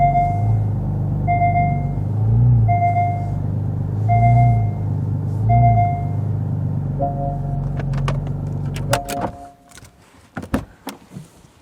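A car rolls into an inflatable garage with a steady engine hum and pulsing rumble, then the engine cuts and a few sharp clicks and thumps follow near the end.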